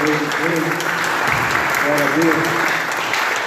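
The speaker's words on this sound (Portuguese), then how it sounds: "Você pode aplaudir o Senhor" A church congregation applauds steadily during an evening worship service, a dense wash of clapping under a preacher's voice speaking throughout.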